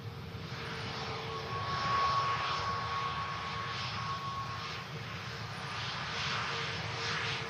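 Aircraft arriving from Vienna at Manchester Airport, its engines making a steady, broad roar that holds at an even loudness throughout with no voices.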